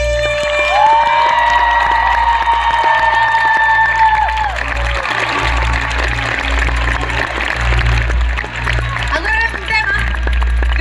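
A large concert crowd applauds and cheers loudly over thumping, sustained music, the clapping continuous and dense throughout.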